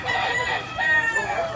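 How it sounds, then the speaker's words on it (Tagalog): Chickens at a roadside spot in a Manila street clearing, with a rooster crowing in a drawn-out call amid clucking hens, fairly close and steady across the moment. "May mga manok dito."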